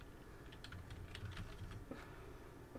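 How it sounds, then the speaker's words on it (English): A computer keyboard is typed on in a quiet room, with a short burst of light, rapid key clicks at low volume over faint background hiss. "I'm going to type Firefox."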